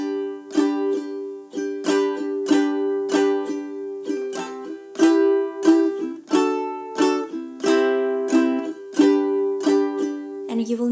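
A ukulele strums the chord progression of a song in a steady down-down-up pattern, bright and close, played alone without singing for about eleven seconds.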